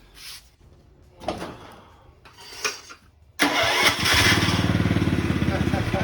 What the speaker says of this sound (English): let's put some gas in this guy and start turning the ignition.